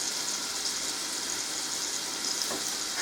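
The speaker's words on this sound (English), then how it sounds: "while the bacon slices are cooking" Bacon slices frying in a pan, a soft steady hiss and crackle of sizzling fat throughout, with a faint clink near the end.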